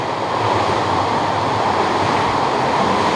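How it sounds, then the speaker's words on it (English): Small waterfall in a cave stream, a dense continuous rush of falling water close by, loud and steady throughout with no voices. "A little bit of a waterfall."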